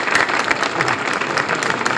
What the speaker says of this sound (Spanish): ¿Esos aplausos? ¡Qué de gente!